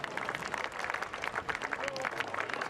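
A racecourse crowd applauds the horse Frankel, a continuous patter of distant clapping and cheering with faint voices mixed in.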